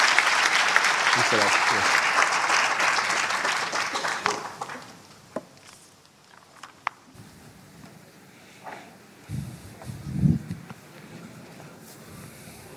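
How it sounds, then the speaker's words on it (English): A forum audience applauds the panelists in a dense, full burst that fades out after about four seconds, followed by quiet room noise with a few scattered claps and brief spoken thanks. "may I ask for a round of applause for our panelists today?"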